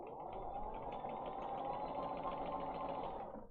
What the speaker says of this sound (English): you're going to stop sewing, pick up the next piece of paper, leave about 1/4 of an inch between the papers, and then you're going to sew right down